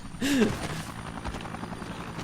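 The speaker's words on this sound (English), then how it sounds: "Now that I've done that, the helicopter's respawned." A helicopter in the Dead Rising video game thrums with a steady rotor drone, faint and constant, after a short vocal outburst at the start.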